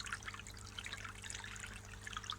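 Water trickles steadily from a newly fitted overflow on a fish fry pond, a soft, continuous dribble and splash heard close and fairly quiet, with no talking.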